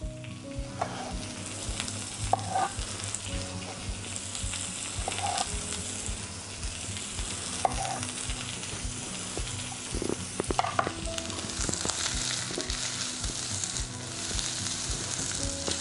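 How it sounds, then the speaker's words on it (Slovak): Zucchini sautés in a hot pan, a steady close sizzle and crackle lasting throughout, with occasional clinks and scrapes of stirring and no talking. "Cuketu si orestujeme, niekde taká na skús, alebo al dente"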